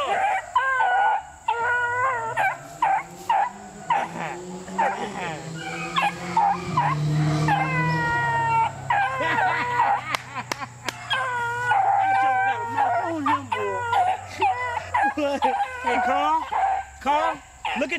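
Beagle puppies bay and howl in excited, rising drawn-out cries at a swamp rabbit, several voices overlapping close by, with people talking over and between the howls.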